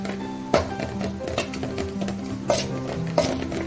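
A spoon scrapes and knocks against a pan while turmeric, chilli powder and snake gourd are being mixed, sharp clinks and taps spaced irregularly at close range under a low background hum, with no talk.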